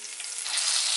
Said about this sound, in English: So this has been frying for about 3 minutes